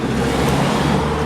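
A car crosses a road bridge near a marina on the Spanish coast, giving a loud, steady engine and tyre rumble at close range.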